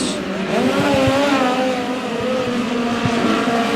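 POWRi midget race cars roar down the backstretch at Humboldt Speedway, a loud sustained engine howl with shifting pitch as the pack speeds past, close and continuous.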